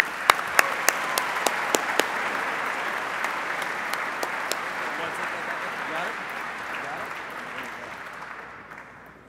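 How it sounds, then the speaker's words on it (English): A gala audience at a charity event claps steadily, with a few sharp, close hand claps standing out at first, before the dense applause gradually fades away. "One more round of applause, everybody."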